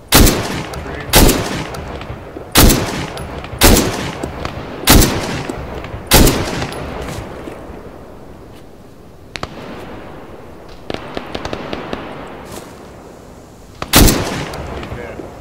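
Loud, close gunfire in the military shooter Arma 3 on the Livonia map, with about eight heavy reports in a regular rhythm, then a lull with scattered faint distant shots and one final loud blast.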